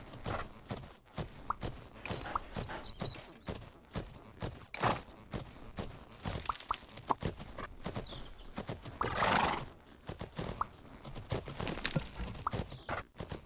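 A horse canters in the video game Fernhoof Grove, its hoofbeats thudding in a quick, rolling rhythm with occasional snorts and a brief whinny, fairly close and moderately loud, with no talk.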